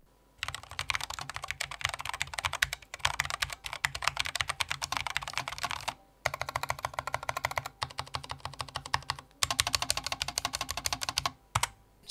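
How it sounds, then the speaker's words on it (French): Rapid typing on a Cooler Master SK620 mechanical keyboard, crisp clacky keystrokes in several long bursts separated by short pauses, close and clear. "vous pourrez toujours un petit peu améliorer le son de ce clavier"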